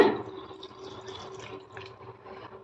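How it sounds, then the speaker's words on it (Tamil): A little water is poured into a wet grinder holding rice, cumin and dried red chillies, a short splash and trickle of liquid that fades, quiet and close. "இப்போ இதில் பார்த்தீங்கன்னா கொஞ்சம் தண்ணி விட்டுக்கோங்க."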